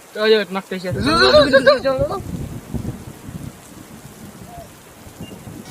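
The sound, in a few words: rain falling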